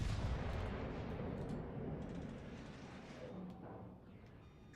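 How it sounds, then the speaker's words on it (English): Naval guns fire in World of Warships Legends: a heavy, deep boom rolls out at the start and slowly decays into a long low rumble, with no voices. "He just fired his guns."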